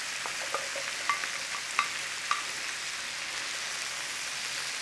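Sausage and vegetables with garlic sizzle in a pan for a family sausage fajita dinner, giving a steady fizzing hiss with a few soft pops and clicks of stirring scattered through.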